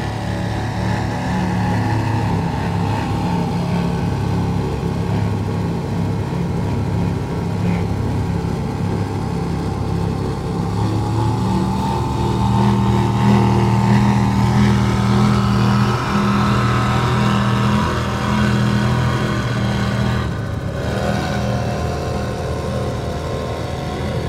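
A 39-foot Outer Limits powerboat runs at speed in a steady, loud engine roar with strong low harmonics that rise slightly in pitch midway, sustained without talk throughout.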